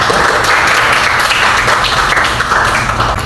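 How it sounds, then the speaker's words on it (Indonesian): Classroom applause for a student named Regina during a science lesson on pressure of solids, a dense, steady patter of many hands clapping continuously throughout, close and loud, with no voices on top. "Beri tepuk tangan untuk Regina."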